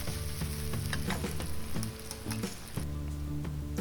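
Razor clam meat sizzles steadily in butter with pepper in a hot pan, a close, continuous frying crackle with small pops and spits and no talking.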